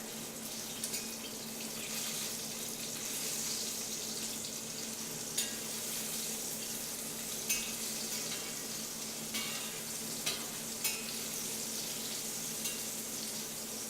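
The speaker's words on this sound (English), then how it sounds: "Need to give these a little stir." Chili garlic shrimp sizzle in a hot pan with a steady, moderately quiet frying hiss, broken by a few soft clicks and scrapes as they are stirred.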